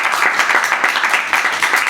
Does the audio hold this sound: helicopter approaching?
no